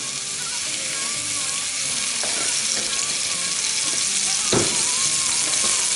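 Onions fry in a good helping of oil in a hot pan, a steady close sizzle with occasional stirring clicks and scrapes.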